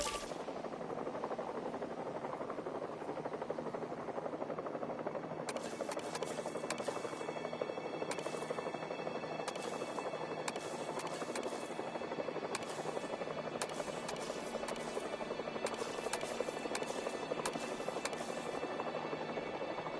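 Drone hovering in Jurassic World Evolution 3, a steady whirring rotor hum throughout, with sharp rapid mechanical clicks and bursts scattered across the second half.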